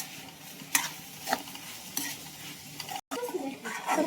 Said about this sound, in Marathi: आता टोमॅटो टाकले टोमॅटो पण चांगला परतून घ्यायचंय